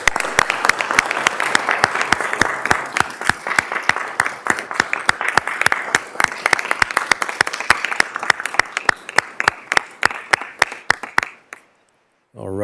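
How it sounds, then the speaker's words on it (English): Council meeting audience applauding firefighters, sustained rhythmic clapping from a roomful of people, loud and close, running several seconds before stopping abruptly into near silence. "applause is still in order. So let's say one more thank you to all of our firefighters."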